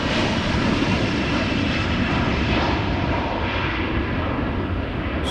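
Emirates airliner at Amsterdam Schiphol, a steady, loud jet engine roar that fills the whole stretch with a broad, continuous rumble and no voices.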